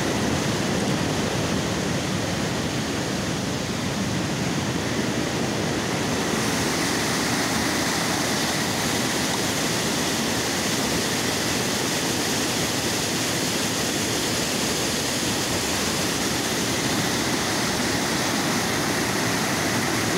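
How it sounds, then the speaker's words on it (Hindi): Loud, steady roar of rushing water pouring fast through a dam gate in Sirsa, a continuous broadband torrent with no pauses, close and constant throughout. "ये देखिए पानी कितनी तेज स्पीड से गिर रहा है यहाँ पर।"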